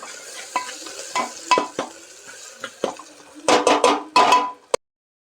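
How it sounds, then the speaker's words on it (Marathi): Onion sautéed with ginger garlic paste in a pan: a string of close spatula scrapes and stirs, building to a quick burst of vigorous stirring, over a quiet sizzle with no talking. "आलं लसूण याची बारीक केलेली पेस्ट पण मस्त परतून घ्यायची"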